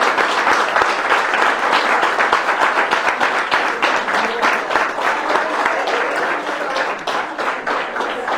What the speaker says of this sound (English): Got a round of applause for Mike.